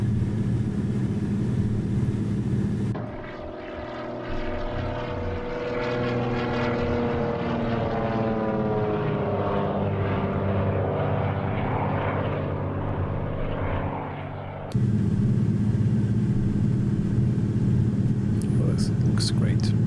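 A pair of de Havilland Beaver propeller planes drone past at a desert fly-in, their engine tone sliding downward as they pass; radio chatter and talk run alongside, with louder wind or engine noise at the start and end.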